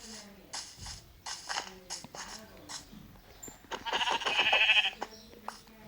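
Sheep bleating in a blocky survival video game, several short bleats in a row, moderately loud, with a person talking around them.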